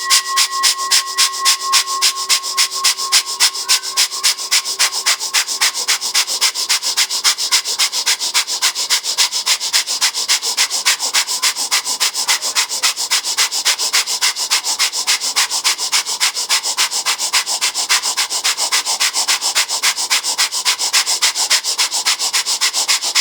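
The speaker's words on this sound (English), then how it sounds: "start the breath of fire" Kundalini breath of fire: rapid, forceful, rhythmic nasal breathing pumped from the navel, a fast even train of sharp huffs running nonstop for over twenty seconds, close and loud, with a faint steady tone underneath early on.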